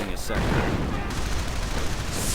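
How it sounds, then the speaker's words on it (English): Artillery fire in a real-time strategy war game, a dense, continuous barrage of overlapping booms and gunfire at steady loudness throughout, with a voice talking over it. "More artillery joining in."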